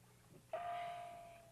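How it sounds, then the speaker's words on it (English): A male walrus in springtime makes a bell-like call with its inflatable throat pouches, a single faint ringing tone that strikes suddenly and then holds steady and slowly fades. "Inflatable throat pouches of the adult male in the springtime account for the bell sound."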